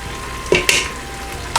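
Minced garlic sizzles in light butter substitute in a pan, a brief hiss broken by a couple of sharp spatters and a stirring scrape, no talking.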